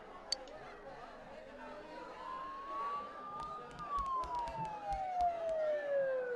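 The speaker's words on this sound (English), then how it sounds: "Those sirens are really close." A siren in the Persona 4 Golden video game rises and then falls in a long sweeping wail, close by and growing louder, under low game chatter and scattered clicks.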